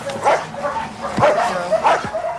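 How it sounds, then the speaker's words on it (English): Alsatian guard dogs at a kennel near Rome barking in repeated bursts, with yips and whimpering cries mixed in, several dogs close by against a busy background. "Guard dogs are trained to maul unexpected attackers."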